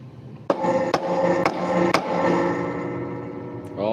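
A mallet drives a hand chisel into scrap wood, four sharp strikes spaced about half a second apart, each ringing briefly, with a scraping rasp at the end.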